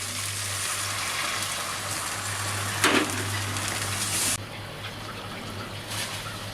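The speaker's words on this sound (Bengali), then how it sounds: "ঝোলটা দিয়ে দিব।" Broth poured into a pan of stinging catfish curry (shing maach bhuna), a steady, soft rush of liquid and sizzle over a low background hum, with a brief splash near the middle before it quiets.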